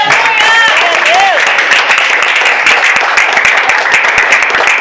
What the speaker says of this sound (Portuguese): As palmas do louvor.